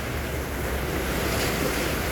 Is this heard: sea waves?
yes